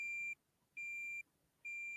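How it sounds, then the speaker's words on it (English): An electronic beep sounds in three evenly spaced, sustained tones of about half a second each, with quiet gaps between them, heard alone at a modest level. "I can hear a sort of beep, beep."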